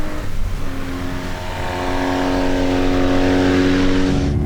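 A BMW R90S motorcycle engine revs from idle and climbs to a steady, sustained high-pitched drone, loud and close, with no voices.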